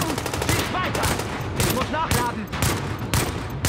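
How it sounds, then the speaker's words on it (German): Dense, continuous rattling gunfire from several weapons in the video game The Division, loud and overlapping, with bursts of automatic fire and people talking underneath. "Schuss um Schuss. Er schießt auch."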